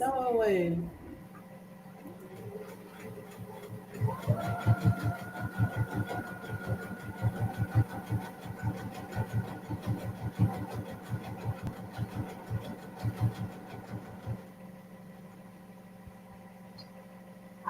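A sewing machine stitches a fabric journal, a fast rhythmic mechanical whir running for about ten seconds at close range over a low steady hum, then stopping.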